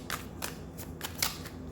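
A tarot card deck being shuffled by hand: a few crisp riffling bursts at a steady, roughly even pace, close up and fairly clear, with no voices.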